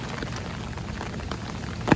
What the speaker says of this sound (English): Yes, I like light rain.